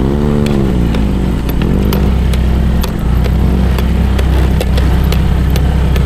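A Honda Click 125 V3 scooter labors up a steep mountain trail, its engine droning loud and close with a steady buzzing hum and rattly clatter throughout.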